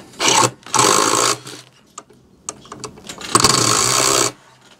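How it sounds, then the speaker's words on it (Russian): A self-tapping screw being driven into a drilled hole in an aerated concrete wall without a plug, with two close, loud bursts of a power driver whirring separated by small clicks and handling knocks, no talking. "просверлили отверстие и тоже так же, без всяких дюбелей, без всего, берем и закручиваем этот саморез."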